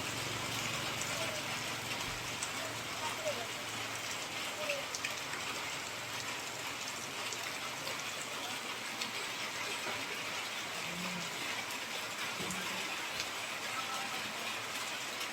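A sudden heavy rain falls outdoors during a road journey, making a steady, even hiss of downpour that runs throughout without breaks.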